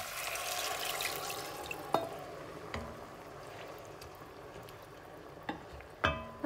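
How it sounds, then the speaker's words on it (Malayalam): Water pours onto half a cup of rice in a cooking pot with a soft splashing wash, followed by a few sharp clinks and knocks of the pot and utensils nearby. "സോ ഞാൻ ഇനി ഇതിലേക്ക് വെള്ളമൊഴിക്കുകയാണ്."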